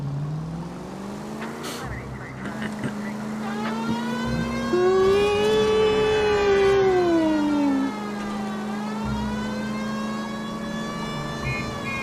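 A wailing police siren in the video game L.A. Noire rises and falls continuously over a steady engine drone, loud and close, with a car horn-like tone partway through.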